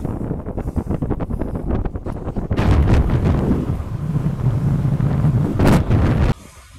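Heavy wind buffeting a microphone while cycling into a strong, chilly headwind on a road ride, a loud continuous roar that swells in gusts and drops off abruptly near the end.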